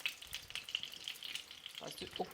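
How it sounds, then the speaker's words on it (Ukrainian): Cauliflower pieces sizzle and crackle steadily in hot oil nearby, frying to a golden crust, with a short soft knock or two near the end. "Тепер підсмажуємо з кожної зі сторін."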